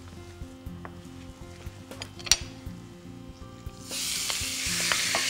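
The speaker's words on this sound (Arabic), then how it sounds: "اول خطوه هنعملها نحط اللحمه بتاعتنا تتعصج او تشحر، نشحر اللحمه بتاعتنا" Minced meat with onions frying in oil for a kofta lasagna: a quiet sizzle with a few clinks of a utensil, then a loud, dense hiss that swells midway and holds steady to the end.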